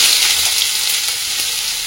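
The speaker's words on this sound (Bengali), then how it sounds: "পেঁয়াজ, কাঁচা লঙ্কা, কালো জিরেটা ভাজা ভাজা হয়ে গেছে" Chopped onion, green chili and black cumin sizzle in hot mustard oil, a loud, close, steady crackle with no voices.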